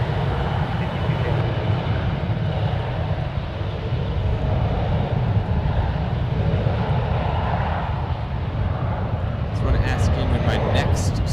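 A jet airliner takes off at San Francisco International Airport, a loud continuous engine roar with heavy low rumble that holds steady throughout, while someone talks over it.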